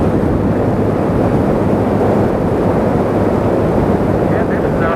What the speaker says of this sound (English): we're just riding down the road to enjoy the ride for just a few minutes